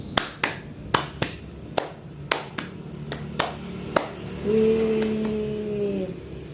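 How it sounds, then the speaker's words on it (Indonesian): Schoolchildren in a classroom clap through a counting ice-breaking game: a series of sharp, separate claps in a loose rhythm, then a sustained vocal cheer rising over the last stretch. "Tepuk 5 2 kali."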